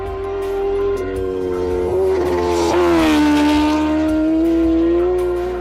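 Kawasaki Ninja H2R superbike racing at speed on the Isle of Man TT course, its engine a loud, steady high-pitched roar that climbs and dips slightly as the bike holds near full throttle, with constant wind rush.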